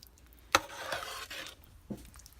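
Chili in a pot is stirred with a spoon, giving a sharp clack against the pot, then wet scraping and sloshing, and later another knock, close and moderately loud.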